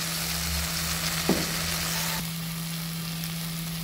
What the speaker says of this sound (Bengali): তো আমি মিক্সি যে পেস্টটা করেছিলাম ক্যাশিউ নাটের, সেটা আমি এখন উপর থেকে ঢেলে নেব।